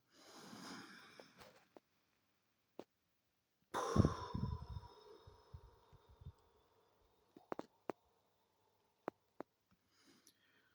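Slow, deliberate breaths of a calming cardiac-coherence exercise: a long exhale, a pause, then a deeper audible breath with soft sighing and small mouth clicks, close and quiet in a still room.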